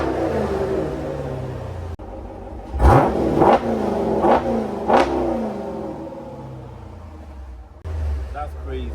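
An SRT Jeep engine, in sport mode, revs hard while accelerating from a stop, with several loud surging pulls in a row; a voice is heard before and after the revs.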